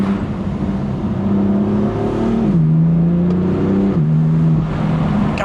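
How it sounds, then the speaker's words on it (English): A BMW M4 with the S55 engine and stock exhaust accelerates with a steady, droning engine tone that climbs in pitch, then drops at two gear changes. The sound is fairly restrained and continuous. "it sounds so good with the stock exhaust"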